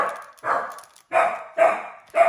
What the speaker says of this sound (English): And that's the little puppy